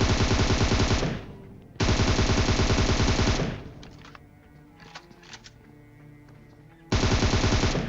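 Video game gunfire aimed at an enemy, rapid automatic bursts fired close and loud in two long strings, then a quieter stretch of faint clicks and scattered shots before another burst starts.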